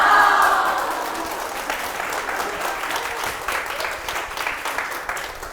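Audience applause in a TV lecture hall as a voice actor's talk pauses, loud at first and then settling into steady sustained clapping with a few cheers, continuing throughout.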